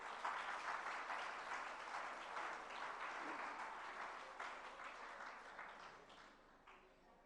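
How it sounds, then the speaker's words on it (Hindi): An audience at a religious gathering in Agra gives long, sustained applause, a steady wash of many hands clapping that fades gradually over several seconds, fairly quiet and with no clear speech. "यहाँ एक बार जोरदार तालियां"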